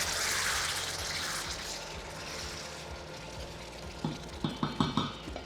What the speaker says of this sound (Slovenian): In tole zalijem z